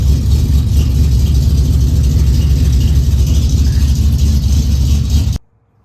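A 1970 Dodge Challenger engine idles with a deep, steady rumble, loud and close, then cuts off abruptly near the end.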